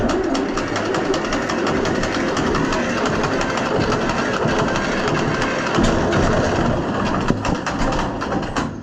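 A neglected John Deere B tractor engine cranks continuously with choke and throttle set, a loud, rough, steady mechanical churning that persists without catching.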